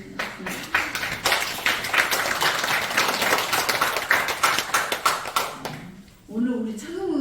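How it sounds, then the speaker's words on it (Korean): Applause at a church worship service honoring the head of a seniors' association, dense clapping from a mid-sized gathering lasting about six seconds before a voice speaks at the end. "다시 한번 박수 한번 보여주겠습니다."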